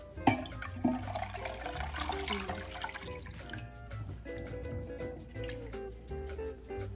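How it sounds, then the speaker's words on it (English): Two cups of cold water poured into dissolved lime Jell-O gelatin mix, a soft continuous liquid trickle and splash at low level, heard alone without talk. "And now the 2 cups of cold water."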